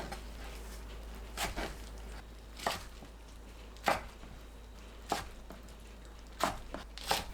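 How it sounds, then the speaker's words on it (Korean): Gompi seaweed being cut with a knife into 4–5 cm pieces on a board, six evenly spaced sharp chops over a quiet low hum. "곰피를 4cm에서 5cm 길이로 썰어주세요."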